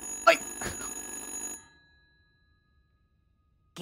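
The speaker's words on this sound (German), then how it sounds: "was gibt's da nachzudenken, wenn ein Telefon klingelt?" A telephone ringing in the horror game Little Hope, heard as two bright rings up close before it falls silent, with another ring beginning at the very end.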